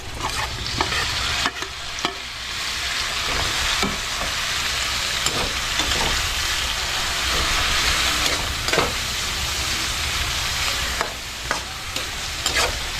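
Bitter gourd (ampalaya) stir-fried with egg in a pan, with a steady loud sizzle and repeated scraping stirs and clanks of the utensil throughout, no talking.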